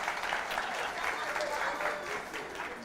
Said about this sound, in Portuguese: a recebê-las com aplausos calorosos